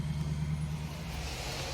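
A truck engine rumbles steadily at low pitch, close by, as it pulls around to hook up a trailer during rain, holding a constant idle-like drone without voices.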